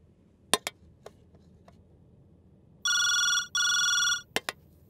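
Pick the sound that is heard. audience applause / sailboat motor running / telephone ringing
telephone ringing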